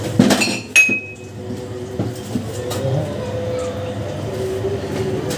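Glasses being washed in a kitchen sink clink sharply a few times near the start, followed by a steady wash of running water and soft knocks.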